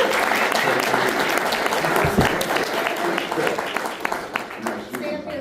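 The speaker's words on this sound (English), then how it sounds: "So big round of applause for Perry for all his." An audience at a Winnipeg Blossom community meetup gives Perry a round of applause during a plaque presentation: dense, steady clapping from a crowd that runs the whole time and fades slightly, with voices mixed in.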